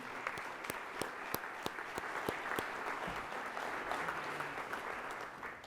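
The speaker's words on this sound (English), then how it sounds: "one more big round of applause for our speakers, Colin, Allison, Russo, Bala, and our host, Dan Eaton" Audience applause at a Columbus Metropolitan Club forum in Ohio, honoring the speakers and host: sustained, fairly full clapping with sharper individual claps standing out, no voices.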